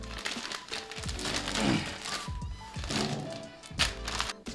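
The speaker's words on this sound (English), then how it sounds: "I'm just going to put it in a bag here." Raw skirt steak slid into a plastic bag, giving close crinkling and rustling of plastic with soft thuds and handling noises throughout, no talk.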